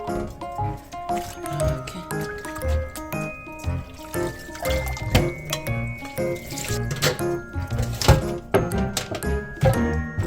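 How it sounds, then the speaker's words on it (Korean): Boiled spinach being rinsed in cold water in a sink, with continuous splashing, dripping and running water, near and fairly loud. "시금치를 마지막으로 냉수물로 한번 헹궈줍니다."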